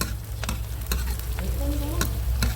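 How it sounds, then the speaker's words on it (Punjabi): Onions frying in a pan and being stirred, a close steady sizzle with rhythmic scraping strokes, no voices. "ਲਓ ਜੀ ਹੁਣ ਆਪਾਂ ਪਿਆਜ਼ ਨੂੰ ਚੰਗੀ ਤਰ੍ਹਾਂ ਭੁੰਨ ਲਾਂਗੇ"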